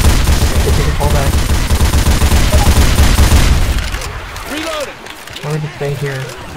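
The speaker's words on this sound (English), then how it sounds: "There's a constant stream of giant machine guns." Sustained machine gun fire from Left 4 Dead 2 survival play, a dense rapid stream of loud bursts that thins out near the end while voices talk over it.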